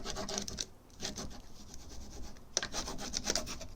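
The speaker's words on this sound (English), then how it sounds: "we're going to go around to the back and rub it in to the back, just like we did on the front" A decal transfer is rubbed onto the back of a piece of furniture, giving close, soft scratchy rasping strokes in uneven bursts with a few sharper ticks, and no talking.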